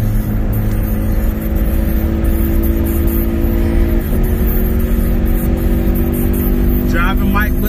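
The engine of the D-Max Little Ranger drag car drones loud and steady while driving at Mooresville Dragway, a dense continuous roar with a slight pitch shift partway through.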